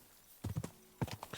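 Horse hooves clip-clop in Kingdom Come: Deliverance 2, a short run of several close, distinct thuds in two quick clusters over a faint quiet background.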